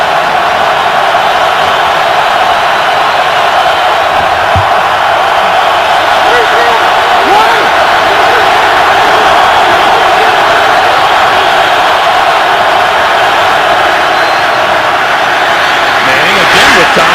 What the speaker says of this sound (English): 3rd and 10, and here comes the Baltimore crowd again